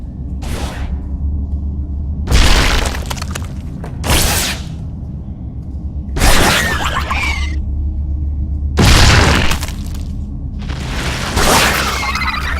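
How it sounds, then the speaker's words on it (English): A Zerg spore crawler destroyed in StarCraft II: five loud, sharp bursts of crashing impact and blast noise, spaced a couple of seconds apart, over a steady low hum, with no talk. "That spore crawler can detect me from across the chasm. It must be destroyed."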